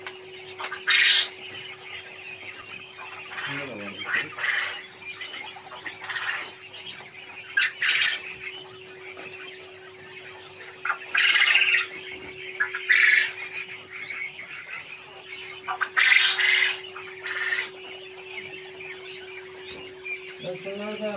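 Farm chickens squawk and cluck in scattered loud bursts over a steady low hum, with quieter talk in between the outbursts.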